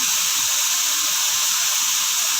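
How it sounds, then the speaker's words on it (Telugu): Okra pieces fry in hot oil with turmeric, giving a loud, continuous close-up sizzle and hiss that holds steady without pause. "బెండకాయలను అయితే మంచిగా ఫ్రై చేసుకోవాలి ఆయిల్లో"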